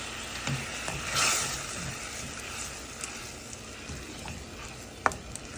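Soaked lentils going into a spice mixture frying in a pan, a soft steady sizzle with a brief swell of hissing near the start and occasional light clinks of a utensil, fairly quiet.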